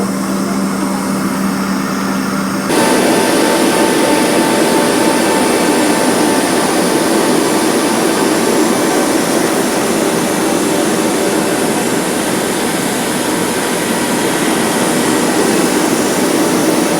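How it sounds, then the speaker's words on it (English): Jet aircraft engines roar loudly and steadily at Maui International Airport in 1987, a broad continuous whine and rush that jumps louder a few seconds in and holds without talk. "This is Maui International Airport."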